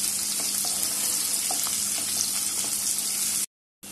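Finely chopped onion sizzles in hot tempering oil for ambat varan, a continuous dense frying hiss and crackle that stays loud and even throughout before cutting out briefly near the end.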